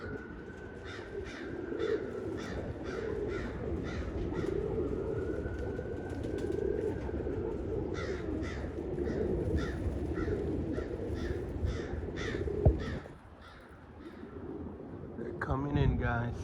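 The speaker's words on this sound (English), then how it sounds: "There goes the crow chasing away the red tail." A crow cawing in repeated harsh calls while chasing off a red-tailed hawk overhead, the caws sounding over a steady ambient hum, with a sharp knock near the end and someone talking briefly at the close.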